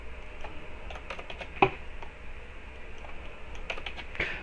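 Keys clatter on a computer keyboard in short irregular bursts of quiet clicks, with one sharper tap partway through, heard close in a calm room with no talking.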